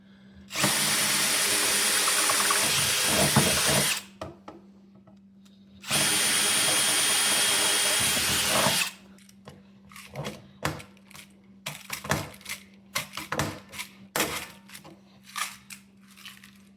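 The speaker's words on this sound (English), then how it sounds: "Drilling out the 1/4 inch first." A power drill bores a 1/4 inch hole during a Ski-Doo Rev XP snowmobile radiator replacement, with two long, loud, steady whines separated by a pause, then scattered clicks and handling clatter over a faint hum.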